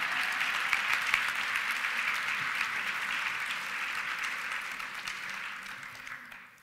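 An audience at a nurses' celebration applauds in a broad, even wash of clapping that is a little distant and tapers off at the close.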